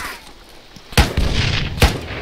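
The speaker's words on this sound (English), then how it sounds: "Grenade out!" Two heavy booms from a frag grenade in a military shooter game, the first sharp blast followed by rumbling debris and a second thud about a second later, loud and close.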